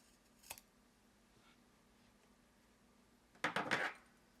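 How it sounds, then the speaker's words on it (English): Scissors snipping thin coiled basket material for a Halloween cauldron basket: one short snip early, then a quick cluster of crisp cuts near the end, close up against a quiet background. "you're just going to cut it as thin as you can"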